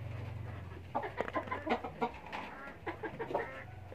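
Chickens cluck in a rapid, uneven series of short calls, close by. A low hum runs underneath at the start.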